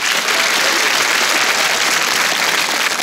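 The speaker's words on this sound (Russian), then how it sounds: "Под ваши аплодисменты." Loud, dense applause from a studio audience at a TV comedy show, steady and unbroken throughout, with no talking over it.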